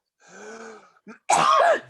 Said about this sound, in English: I'm starting to cough.